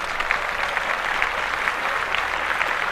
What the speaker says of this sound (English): And let's clap that up for young back.